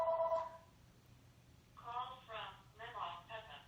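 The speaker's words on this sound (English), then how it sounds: "Oops, and the phone's ringing." A telephone rings in a home, with a short electronic ring burst at the start and two more ring bursts later, fairly quiet in the background.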